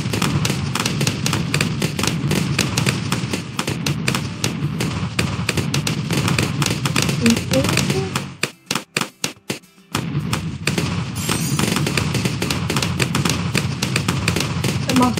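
Bomb shooter towers in the video game Bloons TD6 fire a dense, continuous barrage of loud popping explosions, briefly dropping to a few isolated thumps before the constant blasting resumes.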